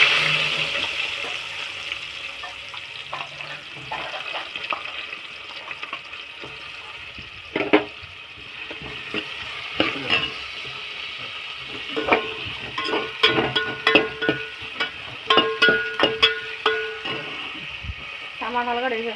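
Large onions frying in a pan for a fresh beans and tomato curry, a steady low sizzle broken by scattered crackles and stirring clatter, with a voice talking over it now and then.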